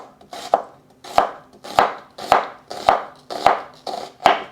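A knife slices through an onion on a cutting board, eight crisp chops falling in an even rhythm about every half second, close and clear with no voices.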